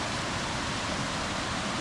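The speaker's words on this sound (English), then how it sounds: "the reason why it's so loud here is because we got a giant waterfall coming down the mountain" Giant waterfall coming down a mountain, heard as a dense, loud, unbroken roar of rushing water with no other sounds.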